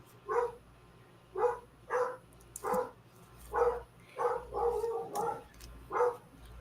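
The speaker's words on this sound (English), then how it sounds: "dog barking" A small dog barks repeatedly indoors at a moderate distance, around ten sharp yaps in an uneven rhythm, with no talk over them.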